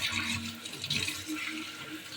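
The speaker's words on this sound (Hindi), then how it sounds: "चिकेन के धुआ दी" Tap water runs and splashes steadily over raw chicken being washed at a sink, a continuous close rushing with small irregular surges, and no voices.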